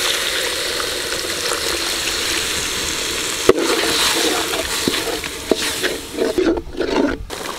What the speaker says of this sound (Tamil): இப்போ மசாலா நல்லா கொதிக்குதுங்க